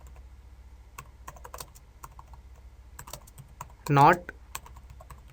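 Code being typed on a computer keyboard: scattered close key clicks in irregular bursts, with a louder cluster of taps partway through and a voice talking quietly over it.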